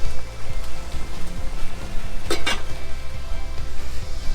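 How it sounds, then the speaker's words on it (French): Almond milk with cinnamon simmers gently on low heat, a soft, close bubbling and sizzle with one brief metallic clink of a utensil against the pot partway through. "je vais laisser ça mijoter à feu doux pendant 5 minutes"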